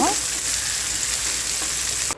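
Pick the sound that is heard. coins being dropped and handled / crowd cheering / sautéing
sautéing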